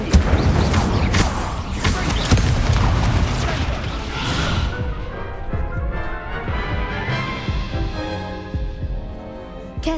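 Incendio fire spell cast in Hogwarts Legacy, a loud whooshing burst of flame with crackling, thudding impacts over the first few seconds that fades into a softer rumble.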